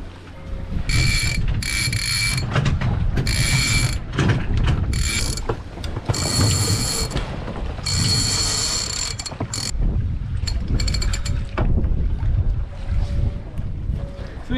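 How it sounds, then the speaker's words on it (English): Genoa furling line ratcheting and clicking through blocks as the sail rolls onto the forestay of a sailboat, the sheet released; repeated bursts of winch and pulley clatter over steady wind and water rumble, close by, no talk. "for Gary to do that, he's actually got to pull the furling line for the Genoa as I release the Genoa sheet."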